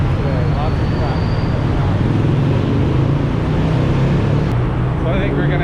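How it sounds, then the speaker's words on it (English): Steady, dense street traffic in a Manila neighborhood, with a continuous low engine rumble from cars and buses passing close by, loud throughout and without letup. "Lots of traffic today, lots of traffic."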